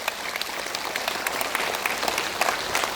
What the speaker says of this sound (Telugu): ఇంత చక్కగా ధ్యానం చేసిన మనకు మనం చప్పట్లు కొట్టుకుందాం.